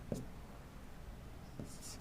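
Chalk or marker strokes on a classroom board come as two faint, brief scratches about a second and a half apart, quiet against a soft room background.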